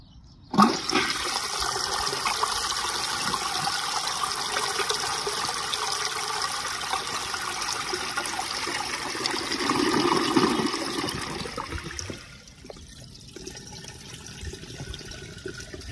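A 1920 Standard Ejecto toilet flushes with a loud, steady rush of water lasting about eleven seconds, swelling briefly near the end before dropping to a quieter trickle as the tank refills.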